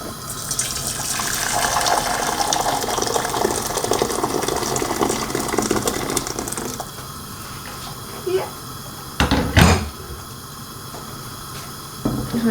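Water from a boiled kettle pours into a pot on a stove, a broad gushing splash for several seconds that stops, followed by a couple of brief clinks and knocks.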